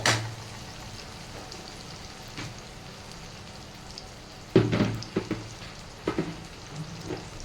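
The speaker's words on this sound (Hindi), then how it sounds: "तो बस अब दाल छौंक रही हूँ।" Dal being tempered in a pan gives a soft, steady sizzle in a home kitchen, punctuated by a few louder bursts of spitting oil and stirring clatter; no talking.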